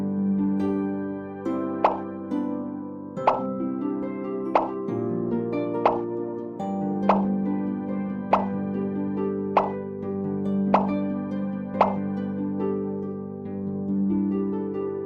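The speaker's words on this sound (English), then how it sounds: "Touch and move a flower to position it in the vase." Flowers are set into a vase in the Rapunzel 3D game, marked by a series of about nine soft, regular plops over a sustained tonal musical background.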